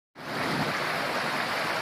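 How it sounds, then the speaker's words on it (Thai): Phu La-or waterfall in Kantharalak district, Sisaket, Thailand, flows with a steady, dense, close rushing roar that starts abruptly and holds evenly, with no voices. "นี่คือน้ำตกภูละออ นะครับก็สวยงามทีเดียวนะครับ มีน้ำไหลผ่านนะครับ"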